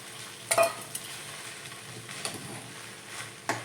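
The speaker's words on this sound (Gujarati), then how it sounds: "આ રીતના સાબુદાણા થઈ જાય ત્યાં સુધી આપણે એને સોતે કરશું" Sago pearls (sabudana) are sautéed in a pan with a soft sizzle, broken by a few sharp scrapes and clinks of a spoon stirring against the metal. No one speaks.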